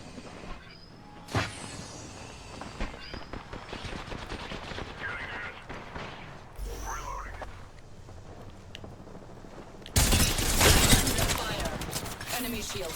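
Gunfire in the battle royale game Apex Legends, scattered shots through the middle building into a loud, dense burst near the end, with game voice lines spoken over it.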